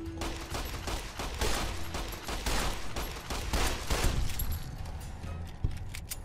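Rapid bursts of gunfire in the game Fallout New Vegas, loud, dense volleys repeating steadily over several seconds with no talking.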